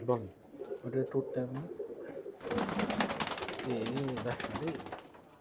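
Pigeons coo repeatedly in low, rolling calls, close by, followed by a burst of flapping wings and more cooing, at a pigeon sale.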